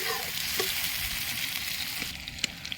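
Onions fry in a pan with a steady, close hiss and sizzle that holds throughout, and a few small clicks and stirring sounds come near the end.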